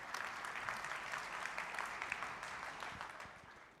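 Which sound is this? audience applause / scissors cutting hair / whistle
audience applause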